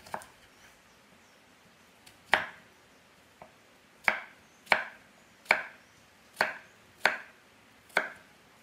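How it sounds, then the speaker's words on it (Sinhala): A knife chops peeled ash plantain into small cubes on a board. Sharp, close knocks land in a steady rhythm, with a few faint taps first and then about seven clear chops roughly every half second, with no voice. "මේ වගේ කුට්ටි හිටින්න කපා ගන්න ඕන"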